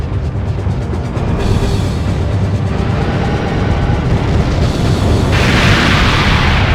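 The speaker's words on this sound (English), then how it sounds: "Use the Gaia cannon. It's an energy hog, but it packs devastating power. Fire it with the circuit button." A heavy energy cannon blast from a mech in the PS2 game Robot Alchemic Drive, a loud sustained boom and rumble that swells and carries a bright hissing wash near the end, with no voices.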